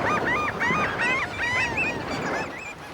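A flock of gulls on a beach, gorging on horseshoe crab eggs exposed by the waves, gives a dense, steady chorus of overlapping shrill calls, close and loud.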